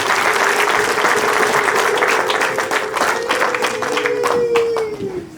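A wedding congregation claps steadily and ululates, a long sustained trilling cry running over dense, continuous applause from a crowd close by.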